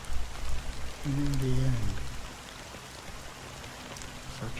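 Steady rain falls in the video game Honkai Star Rail, a dense, even hiss that continues throughout while a voice briefly speaks over it near the start.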